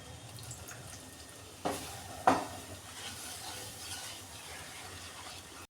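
Milk being stirred into flour in a pan for white sauce, a soft continuous scraping and bubbling with two brief clanks of a spoon against the pan, quiet and close.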